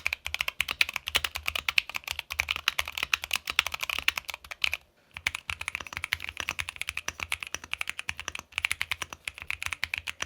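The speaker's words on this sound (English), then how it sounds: "one of the best Keychron keyboards you can get right now" Rapid typing on a Keychron mechanical keyboard, a dense stream of crisp clacky keystrokes at close range with one brief pause midway, no voices.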